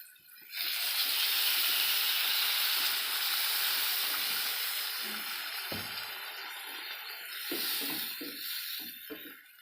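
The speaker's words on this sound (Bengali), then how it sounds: "জল ঢেলে দেব।" Water poured into a hot pan of frying aubergine hisses and steams loudly right away, a steady broad sizzle that slowly eases while faint clinks of utensils sound underneath.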